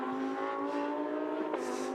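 A GT race car powers out of the final turn at Mandalika, its engine a bright, rising whine with a brief shift near the end, moderately close and unbroken by talk.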